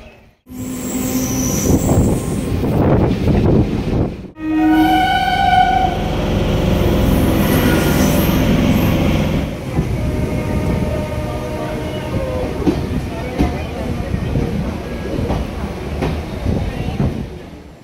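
A train rolls in loudly, its wheels squealing in high, drawn-out tones before a heavy rumble carries on, with voices around it.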